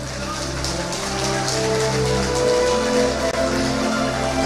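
A congregation at a healing adoration rosary retreat applauds. The sustained clapping is dense and steady, like rain, filling the space for several seconds with no voices on top.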